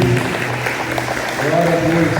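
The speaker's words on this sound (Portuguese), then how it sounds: "Você pode aplaudir o Senhor que está vivo?" A church congregation at an Easter service claps steadily while voices carry over the clapping, a moderately loud, continuous patter under talk and singing-like tones.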